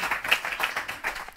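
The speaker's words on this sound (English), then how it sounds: "Give all three of them a round of applause." A workshop audience claps for three participants, a soft, fairly dense patter of hands heard at moderate distance for a brief moment, with no voices over it.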